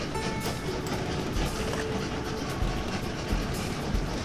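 A fast steam locomotive running in the railway game Train Valley, a continuous dense rumbling train roar with rapid clickety-clack, steady and fairly loud throughout.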